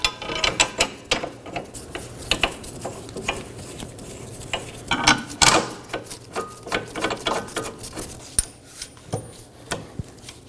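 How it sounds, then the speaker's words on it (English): A ratchet and socket threading bolts into the rear trailing arm of a 2018-2024 Chevrolet Equinox during rear axle inner seal replacement, giving bursts of rapid metallic clicking in short repeated runs, close and fairly loud. "Now I'm going to take my bolts and thread them in."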